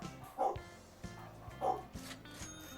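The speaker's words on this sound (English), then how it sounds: "I don't know why my dogs are barking like mad." Dogs barking in bursts, a few yappy barks spaced about a second apart, moderately close but not loud, with a low rumbling background underneath.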